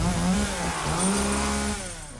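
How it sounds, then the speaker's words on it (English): A chainsaw from the 2003 film Texas Chainsaw Massacre, a loud, continuous revving engine drone that rises and dips slightly in pitch, heard alone with no voices. "Leatherface opened that door behind him and start up his beautiful chainsaw"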